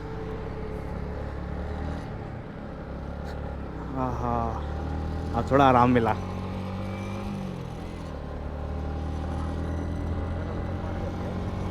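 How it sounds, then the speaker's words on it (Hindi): A car on a highway, with a steady low road and engine rumble throughout while people talk inside the vehicle. "भाई चला रहा है गाड़ी।"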